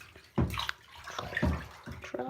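A rock drops into water during an underwater ASMR session, giving a couple of close, muffled splashing plops with bubbly sloshing between them.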